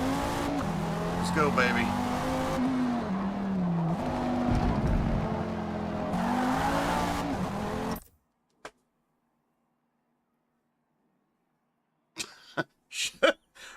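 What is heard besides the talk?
race car driving on the Nordschleife in Forza video game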